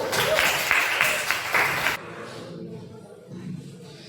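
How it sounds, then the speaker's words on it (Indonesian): Classroom applause for a student group fills the first two seconds, a burst of clapping from pupils that cuts off abruptly, leaving quiet room noise and faint voices afterward. "kita beri aplaus dulu untuk kelompok 1"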